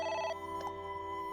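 A telephone rings in the video game AI: The Somnium Files, a bright electronic trilling tone, loud and close, with a steady sustained hum beneath.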